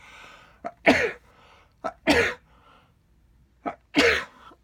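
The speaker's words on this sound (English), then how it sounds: "I'm probably going to sneeze throughout this video." Three sneezes in a row in a dusty home book room, each with a sharp intake of breath before it, close and fairly loud, with quiet pauses between.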